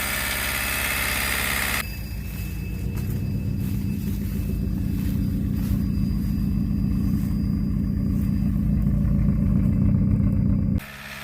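A Honda Civic's F20B engine, smoking after a long abandonment, settles into a steady low idle rumble just after starting. It runs close and even for several seconds before an abrupt cut.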